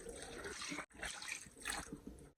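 Water pours steadily into a pan of fish being cooked for a fish roast fry, a continuous splashing wash with one brief break, fairly soft and close.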